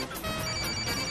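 A telephone rings at a shop in a Korean drama scene, its repeating electronic ringing tone steady and fairly loud over a low background hum, with no one speaking.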